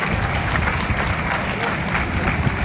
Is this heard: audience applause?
yes